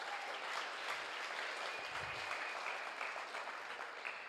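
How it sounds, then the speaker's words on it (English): Steady audience applause at a youth sleep-out event, a dense wash of many hands clapping that holds evenly throughout at moderate level. "So let's just give ourselves a round of applause."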